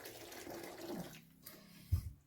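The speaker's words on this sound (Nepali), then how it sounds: "तातो पानी हाल्दैछु मैले यसरी।" Hot water is poured into a container while making homemade local wine, a quiet, steady splashing pour for about a second followed by faint handling noises.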